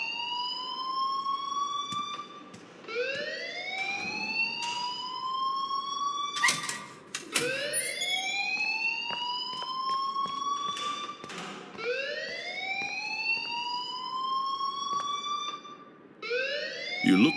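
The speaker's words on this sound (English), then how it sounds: "please turn off that alarm since that's your job" A fire alarm in the Life is Strange game wails in repeated rising sweeps, steady and loud for the whole stretch, with a few sharp clicks and knocks cutting through.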